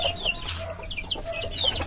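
Hens clucking and chattering in a busy, overlapping flock, with short bright calls repeating throughout at close range.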